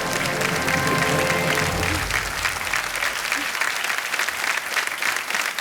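Studio audience applauding on a quiz game show after a contestant wins a cash prize, a dense sustained burst of clapping throughout, loud and close, with faint voices underneath.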